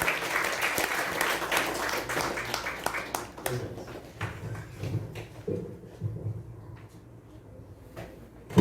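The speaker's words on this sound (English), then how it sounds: "Please give a round of applause." A youth leadership program audience welcomes a young speaker with applause that starts full and dense, then thins into scattered claps and a few quiet voices before tapering off.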